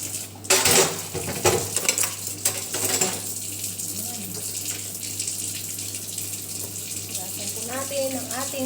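Running tap water pours into a sink while dishes, pots and cutlery clatter and clink at the start, then the water flows on steadily with a few faint voices in the background.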